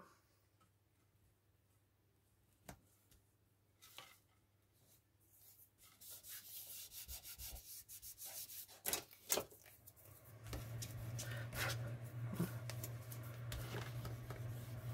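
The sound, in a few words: spreading material over scrapbooking card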